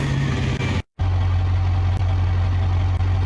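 A 6.9 liter V8 with a five-speed manual in BeamNG.drive idles close and steady, a deep low rumble broken by a brief cut of silence before resuming evenly.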